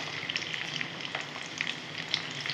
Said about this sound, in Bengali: ভেজে ভেজে নেবো একটু।